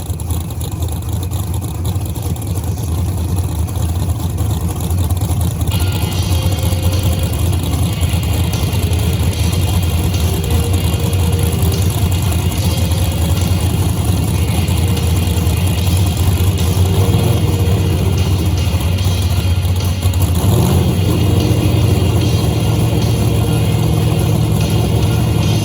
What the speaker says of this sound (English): Folks, we got two of the hottest cars of the evening coming up here, going head to head